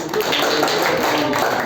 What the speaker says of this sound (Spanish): Un aplauso para Kevin.